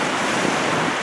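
Niagara Falls roaring as a steady, dense wash of falling water that fills the short stretch evenly and loudly, with a broad rumble and no voices.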